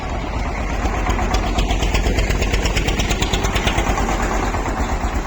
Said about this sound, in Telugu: మన ట్రాక్టర్ సౌండ్ అయితే ఇలాగ వస్తుంది.